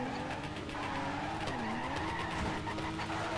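A car in the Torque Drift racing game slides sideways in third and fourth gear, its tires squealing in a long wavering screech over the steady engine drone.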